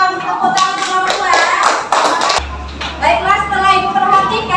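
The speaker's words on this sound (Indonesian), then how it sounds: "Oke, kita tepuk tangan kelompok 2." A classroom of students claps for a group in a quick burst of overlapping hand claps, close and fairly loud, with voices talking over the clapping.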